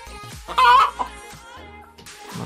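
Chickens in a coop give a loud drawn-out squawk followed by scattered clucks, close by, then quieter rustling and another brief cackle.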